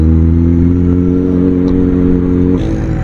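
A Suzuki Bandit 650 motorcycle engine runs at a steady low idle-to-mid hum during a slow U-turn, loud and close with a constant droning tone that shifts and roughens slightly near the end.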